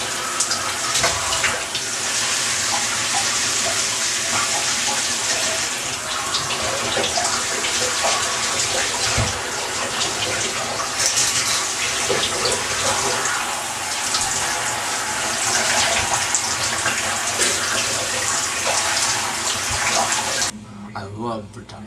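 A bathtub fills with water for a hot bath, with a loud, steady rush from the tap that runs unbroken for about twenty seconds and then cuts off.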